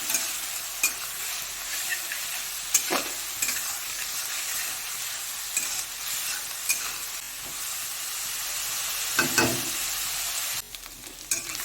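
Onions fry in a pan with a steady close sizzle. Periodic scrapes and knocks of a utensil stirring sound against the pan, with a louder clatter near the end and no voices.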